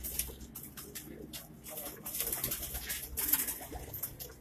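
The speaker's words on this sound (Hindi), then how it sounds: "अंबरसिरा कबूतर है जी इनका।" Soft, low cooing of Ambarsira pigeons repeats amid a busy background of fluttering and scuffling, without any speech.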